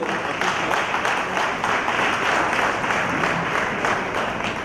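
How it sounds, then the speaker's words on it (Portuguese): A seated audience at a panel lecture breaks into loud, dense applause honouring the board, a full, continuous roar of clapping with no talk over it. "a primeira salva de palmas é para a diretoria e para vocês todos"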